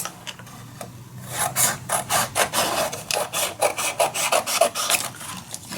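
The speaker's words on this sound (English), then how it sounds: "let me first cut this one just a little bit shorter" Paper being cut shorter while making a mini album, heard as a close, steady run of short scraping strokes in a quick repeated rhythm, with no talking.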